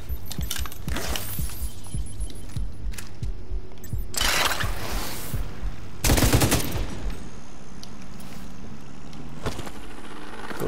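Gunfire in the shooter The Division 2 on a rooftop garden mission, scattered shots and short bursts over ambient game sound, with a few louder blasts standing out.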